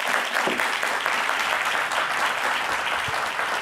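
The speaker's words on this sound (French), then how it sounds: "On peut vous applaudir très fort" A television studio audience applauds loudly and continuously, a thick even roar of clapping with no speech over it.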